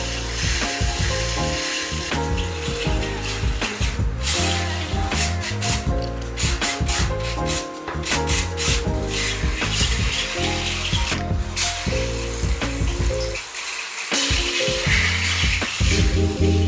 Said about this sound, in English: Next is smoothing out the surface with a power tool and sandpaper.